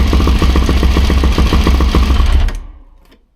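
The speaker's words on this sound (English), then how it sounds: "you hear a rattling noise when the engine is running" A Suzuki LTZ400 ATV engine runs with a fast, steady mechanical rattle and clatter throughout from its chain tensioner area, loud and close, cutting off abruptly near the end and fading away.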